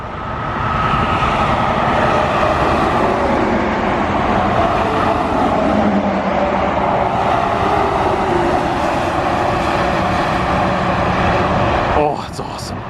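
Heavy traffic on a busy highway, a loud continuous roar as a large vehicle rolls past close by, steady for about twelve seconds, with a voice speaking over the noise near the end.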